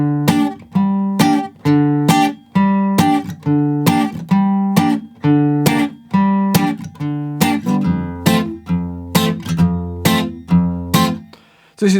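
An acoustic guitar plays the first verse line of a folk bluegrass tune, a steady run of sharply plucked chords with a bass line entering in the latter half, close-miked and solo without voices.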